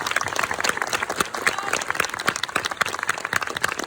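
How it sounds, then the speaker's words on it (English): An audience at a film festival premiere claps for the film's producer, dense steady applause of many hands throughout, fairly close and even in level. "I want to give a big applause to the film's producer,"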